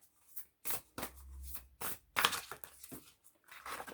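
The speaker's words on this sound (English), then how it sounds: "We're shuffling." Playing cards being shuffled during a tarot or oracle reading, a series of brisk riffling and crinkling bursts with short pauses between them, close and fairly quiet, with no talking.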